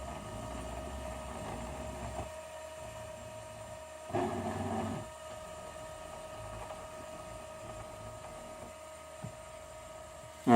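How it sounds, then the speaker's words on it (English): A 3D printer starting a print gives a steady, close mechanical hum with fixed tones. A brief louder whirring surge comes about a third of the way in, then the constant drone continues. "Now we're going to press this button and it's going to start printing."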